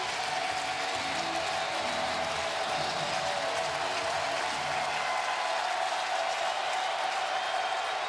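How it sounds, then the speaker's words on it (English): A football stadium crowd during a 2017 Kentucky at Southern Miss game, roaring on third down as a continuous, loud wash of cheering and applause that holds steady throughout. "Listen to this crowd."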